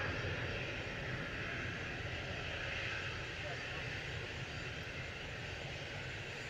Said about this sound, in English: EasyJet off to Geneva there. A320-200 GEZ RX flight 2185.